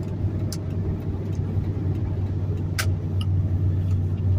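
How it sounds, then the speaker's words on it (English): Deep, steady rumble of a big V8 engine in a large raised truck, running continuously at close range with a low droning hum and no voices. "It's a big old V8."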